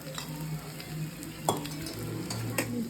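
Adai lentil pancake frying in oil on a griddle, a steady close sizzle with a few brief scraping clicks of a utensil, no talking.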